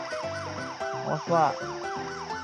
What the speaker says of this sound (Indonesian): nyalain sirine